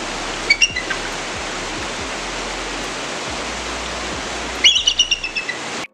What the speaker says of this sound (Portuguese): o canto da águia americana não é tão majestoso quanto a sua aparência? Em vez disso, elas têm uma chamada fraca, formada por assovios e alguns sons agudos